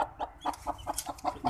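Hen clucking in a repeated run of short, evenly spaced calls, close and clear, with no voices, in a backyard where chicks are hatching.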